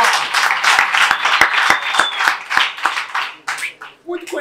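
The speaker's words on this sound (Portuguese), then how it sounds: "Palmas pra esse round" Crowd applause and clapping at a Brazilian freestyle rap battle, sharp individual claps ringing out over a loud cheering audience, with shouting voices mixed in toward the end.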